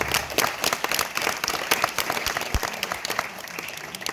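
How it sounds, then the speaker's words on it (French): Crowd applause at a Bastille Day ceremony in Aiglun, 2022: a loud outdoor burst of sharp, distinct claps that stays steady and close for about four seconds, with no voices over it. "Oui, vous pouvez l'applaudir bien fort."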